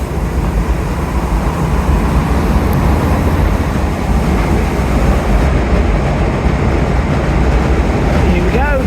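A passenger train runs into Kenaway Tunnel at Dawlish, a loud, steady rumble and roar from on board that holds throughout with no break.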